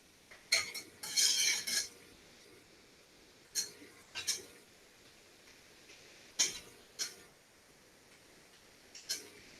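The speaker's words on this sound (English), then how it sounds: "So we're going to whisk these in." A whisk scrapes and clinks against a pan holding cooking hamburger and onions, with a few sharp metallic taps and short rattling bursts separated by quiet stretches, close and alone.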